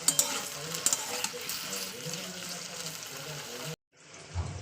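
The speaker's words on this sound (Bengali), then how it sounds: "এই তেলের মধ্যে ভালো করে আমি আলুটাকে ভাজা করে নিচ্ছি" Potatoes fry in hot oil, a close, moderately loud sizzle with a few sharp crackles early on, cutting out briefly near the end before resuming.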